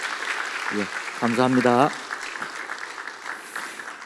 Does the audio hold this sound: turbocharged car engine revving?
no